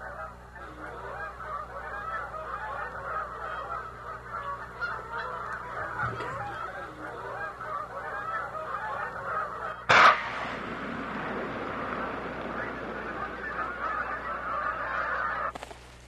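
Canada geese honk continuously in a dense, overlapping chorus of many birds in winter at Blackwater National Wildlife Refuge, Maryland, with a sharp burst of louder calls partway through.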